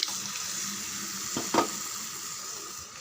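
Water from the jar used to grind tomatoes poured into simmering brinjal gravy: a splashing rush over a background sizzle, with a brief louder burst in the middle, close by and without speech.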